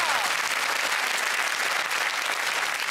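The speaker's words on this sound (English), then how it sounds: "only women applauding" Steady applause from a studio audience of women at a comedy panel show, even and continuous with no voices standing out.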